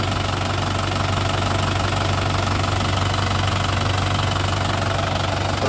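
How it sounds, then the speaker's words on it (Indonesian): A 2011 Isuzu Panther LM Smart Turbo diesel engine idles at close range, producing a loud, steady, even diesel clatter that holds throughout without any talk. "Turbonya ini, putaran mesinnya juga anteng banget."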